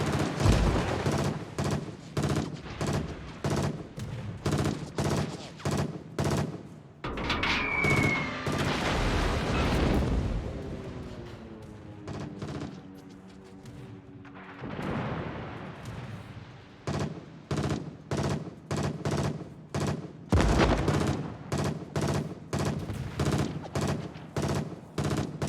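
Rapid, loud bursts of blaster-style gunfire rattle almost nonstop through a video game space dogfight, pausing briefly midway before the rhythmic volleys resume, with little else heard over them.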